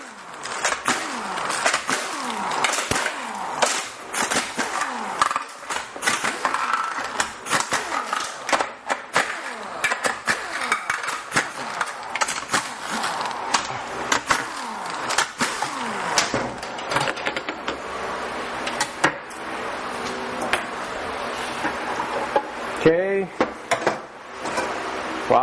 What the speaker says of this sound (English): Now we're going to remove the transmission pan.